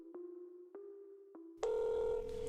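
A telephone call is placed: a faint steady line tone broken by three short blips gives way to a louder, brighter sustained tone, all without any voices.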